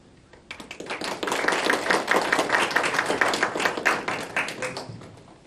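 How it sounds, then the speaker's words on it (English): A room of meeting attendees applauds together at a formal founding meeting, dense steady clapping starting abruptly and holding loud for several seconds before thinning toward the end. "please indicate your approval with a round of applause"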